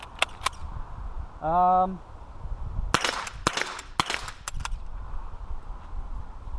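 A Remington 12A rifle in worn, grotty condition fires several sharp shots outdoors, a few early cracks and then a quick cluster of loud reports, with a short tonal whine between them.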